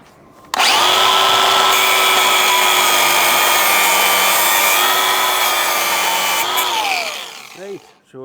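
A power tool grinds or cuts through a brass bleed valve in one continuous, loud, near whine of about six seconds, the pitch dipping slightly as the blade bites, then spinning down.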